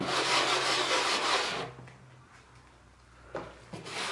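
A walnut husk is rubbed hard onto a wooden piece to stain it, producing a loud, close, raspy scrubbing that stops after about a second and a half, followed by a few faint scuffs.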